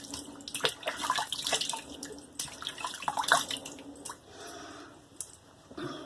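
Close, wet splashing and dripping as water is scooped and patted against the face before shaving in several quick bursts, then a softer trickle near the end.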